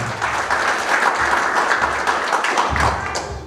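Audience applause at a business seminar in Tasikmalaya: a steady, dense wash of many hands clapping together, sustained for a few seconds without talking.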